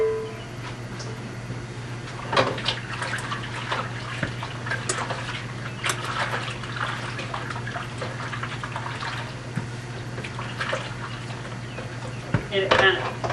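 Kitchen sink water runs steadily while berries and pie-making dishes are washed up, a continuous splashing wash with intermittent clinks and knocks, and someone talks over it now and then.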